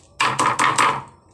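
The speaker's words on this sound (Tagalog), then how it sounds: "Durugan natin ng paminta." Whole black peppercorns are pounded and crushed while breakfast cooking gets under way: four sharp, close crunching knocks in quick, fairly even succession, then a brief fading tail.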